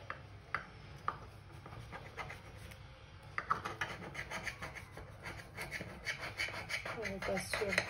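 A knife scoring and cutting through a tray of baklava pastry, close and fairly soft, with a few isolated crisp cuts followed by denser repeated scraping strokes.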